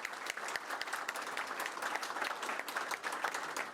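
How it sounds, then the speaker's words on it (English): An audience at a televised candidate forum claps for the candidates, a steady dense patter of applause heard close and fairly even from start to finish, with no voices. "A big round of applause for all our candidates."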